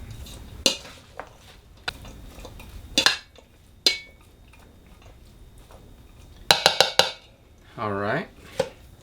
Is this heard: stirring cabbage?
yes